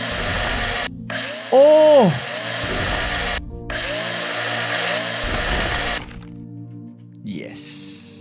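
In the space game Breathedge, a mining drill extracts resources with a steady mechanical grinding hum that runs throughout, broken by short gaps and a wobbling tone, while a man exclaims over it.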